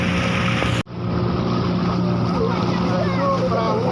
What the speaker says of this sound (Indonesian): Itu perahu wisata